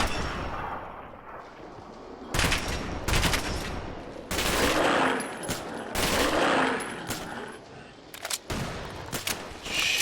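Gunfire from a Fallout 4 zombie fight, repeated loud bursts of shots and rapid fire in close succession, with a voice talking among them.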